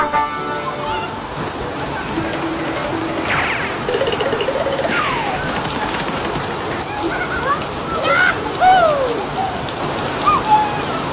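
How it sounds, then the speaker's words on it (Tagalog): Heavy rain pours down steadily outdoors in front of a house, a constant dense hiss and patter, while children's voices and squeals rise over it. "Ang sarap naman ng ulan, Mateo."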